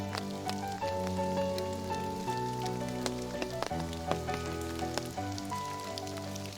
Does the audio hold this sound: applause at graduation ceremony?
no